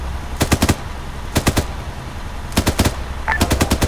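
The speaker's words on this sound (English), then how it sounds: "Dave, point that 50 forward." Several rapid bursts of .50 calibre machine gun fire in the military game ArmA 3, each a tight string of four or five loud shots with pauses between bursts, heard alone without talk.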